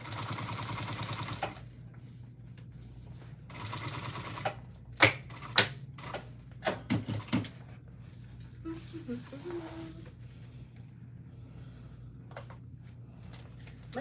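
A sewing machine stitches a Barbie-inspired tote bag, running in uneven bursts of rapid mechanical clatter with short pauses and a few sharp clicks, close and moderately loud over a low background hum.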